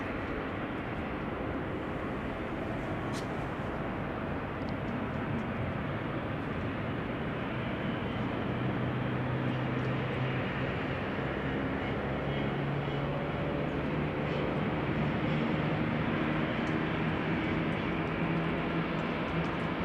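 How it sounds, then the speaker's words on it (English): Airliner jet engine at Amsterdam Schiphol Airport starting and spooling up, a steady broadband roar with a low rising whine building gradually, heard from a distance and continuous throughout without talk. "I think they're starting this engine already."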